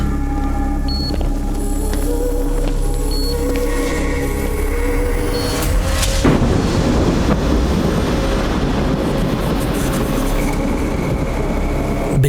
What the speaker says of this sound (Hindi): बिजली कड़की और साथ में पावर आ गया